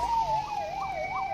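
An ambulance siren wails in a steady rising and falling cycle, loud and close, as the vehicle carries children with heart disease toward a hospital through dense fog.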